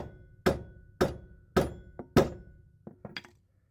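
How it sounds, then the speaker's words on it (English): A hammer strikes a nut left on a subframe bolt of a Saturn Ion, four loud metallic whacks in steady rhythm followed by a few lighter clinks and taps. "leave the nut on so it's covering up the threads, and go ahead and then give it a good whack."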